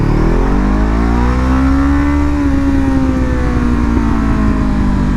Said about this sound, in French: Il a un pot Akrapovic qui chante plutôt bien.